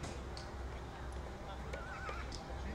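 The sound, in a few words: horse walking at an auction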